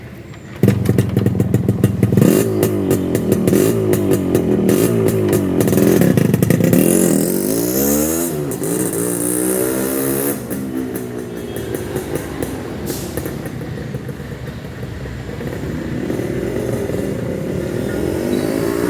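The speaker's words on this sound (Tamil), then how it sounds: "வாங்க இந்த வண்டி ஒரு டெஸ்ட் ட்ரைவ் பார்க்கலாம்." A 1990s Yamaha RX100 two-stroke motorcycle starts up and revs hard during a test ride, its raspy buzzing engine loud and close, rising and falling through gear changes with no talking.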